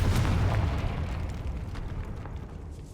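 A Confringo fire spell explodes in Hogwarts Legacy with a heavy, rumbling boom that starts loud and slowly fades, with no voices.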